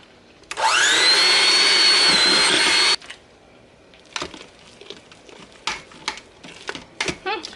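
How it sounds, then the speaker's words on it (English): An electric hand mixer whirs loudly for a couple of seconds, mashing Instant Pot-cooked potatoes with milk, its pitch rising as it spins up, then cuts off and leaves scattered clinks and scraping. "I've got a hand mixer here, and I'm going to mix this up"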